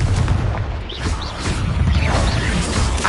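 The Confringo fire spell in Hogwarts Legacy goes off as a series of booming, crackling blasts with pops and crashes layered over game music, loud and close.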